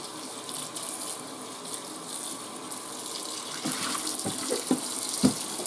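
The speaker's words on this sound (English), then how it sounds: "Again, hot water." Hot water pours from a kitchen tap into a sink where baked-on baking sheets are being scrubbed, a steady close rushing stream with a few splashy bursts near the end.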